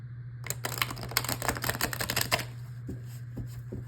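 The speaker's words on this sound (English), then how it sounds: "Okay, let me shuffle these" Tarot cards being shuffled by hand, a close, quick burst of rapid riffling flicks lasting about two seconds, followed by a few soft taps and handling sounds in a quiet room.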